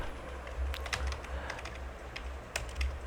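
Someone types a web address on a computer keyboard, quick, soft clicks in uneven bursts at close range over a quiet background, no talking.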